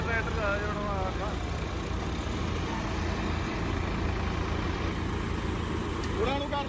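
A heavy tractor engine, at a tug-of-war pull between a John Deere 5210, a Swaraj 855 and a Sonalika, rumbles steadily at a low pitch beneath loud crowd chatter and voices.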